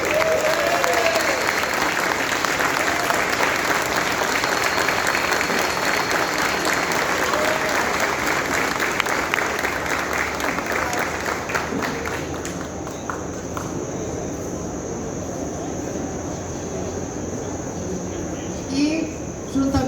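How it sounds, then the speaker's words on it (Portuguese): A festival audience applauds as an artist is welcomed on stage, with dense clapping for about twelve seconds that then thins to scattered claps and quieter room noise. "eu queria receber com palmas a artista Thalma de Freitas,"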